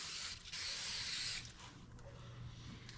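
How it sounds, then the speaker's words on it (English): Citrol adhesive remover is sprayed onto car paint to loosen glue residue, a close, loud aerosol hiss lasting about a second, followed by quieter background. "I'm going to spray some Citrol on it"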